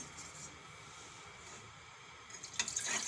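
A soft, steady hiss of running water, turning into brighter splashing near the end as about one and a half bowls of water are poured into a pot on a gas stove.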